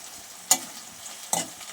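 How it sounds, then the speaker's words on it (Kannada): Curry leaves fry in a pan for chicken curry, with two sharp sizzling bursts as they hit the hot oil and a soft continuous frying hiss between them. Some faint stirring scrapes come near the end, and no one speaks. "ಇವಾಗ ಕರಿಬೇವು ಹಾಕೊಳ್ಳೋಣ."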